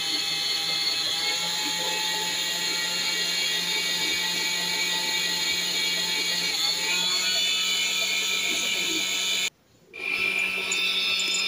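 An electric mixer whips 33% cream, its motor whirring loud and steady with a high mechanical whine as the speed gradually rises, cutting out briefly near the end before resuming.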